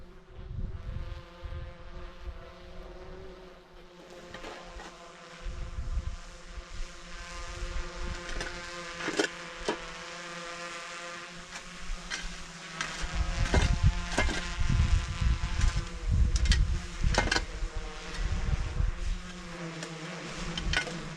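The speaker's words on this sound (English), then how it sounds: "That noise you heard a minute ago, that was the wind hitting." A drone's whining motor hum with gusts of wind buffeting it, producing rumbling, fluttering bursts that swell and fade over the steady drone.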